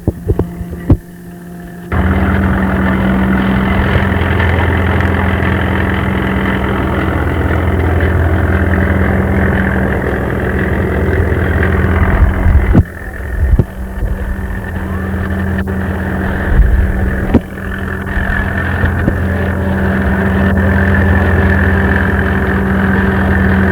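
Steady low idling throb from a 1947 Allis-Chalmers Model U tractor engine at an agricultural show, running continuously and fairly loud close by, with a brief dip near the start and a few knocks and bumps over the drone.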